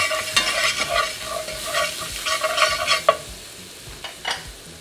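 Garlic frying in a pan for a brandy cream sauce, a steady close sizzle with repeated stirring scrapes and a few sharper clinks of a utensil against the pan.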